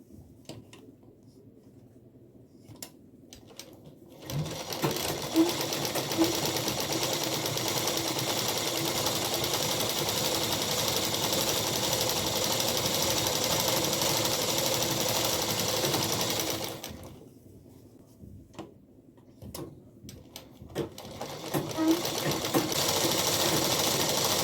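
A sewing machine runs steadily while stitching a salwar bottom, giving a loud, continuous whirring hum. It stops once partway through and then starts again, with no talking.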